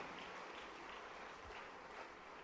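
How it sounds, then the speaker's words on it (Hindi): Faint, steady applause from an audience at a National Youth Day event in Bhopal, a continuous distant patter of many hands with no distinct claps standing out. "जोरदार तालियों से आइए अभिनंदन करें दीपांशी वाजपेयी जी का।"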